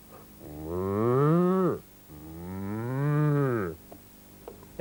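A person's voice imitates a cow mooing, giving two long, drawn-out moos one after the other, loud and close, with a short pause between them.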